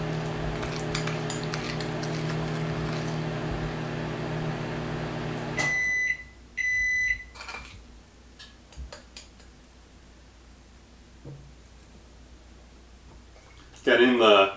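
A microwave oven heating a cinnamon roll in a mug hums steadily, then beeps in short bursts as it stops, followed by quiet clinks of dishes and a brief louder burst at the end.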